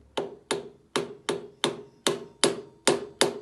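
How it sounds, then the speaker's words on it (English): A piston is tapped gently into a cylinder bore during a restoration, giving nine evenly spaced, close, sharp metallic knocks, each with a short ringing decay, with no talking. "tap the piston"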